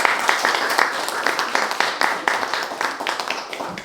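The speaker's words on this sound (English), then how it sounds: "Can you give a round of applause?" An audience gives a round of applause, a dense, steady clapping that carries on for a few seconds at a lively, even level.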